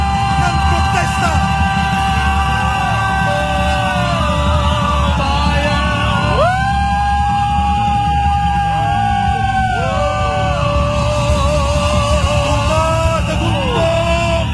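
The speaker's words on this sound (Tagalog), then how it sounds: "Hindi ko kinaya ang ganyang tuloy-tuloy, sustinito at napakalakas na mga sigaw ng protesta." A large protest crowd shouts loudly and without pause, many voices rising and falling together in sustained chanted yells that fill the space.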